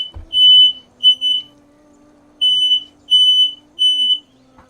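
A smoke alarm set off by burning food on a stove blares five loud, shrill beeps in irregular bursts close by, with short pauses between them and no talk.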